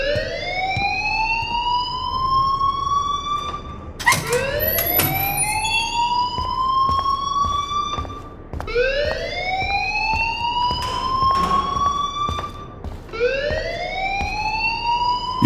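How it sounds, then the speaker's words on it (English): Wailing, rising-and-falling alarm siren in the video game Life is Strange, repeating loud sweeps every few seconds with a sharp electronic tone, heard alone without voices. "please turn off that alarm since that's your job"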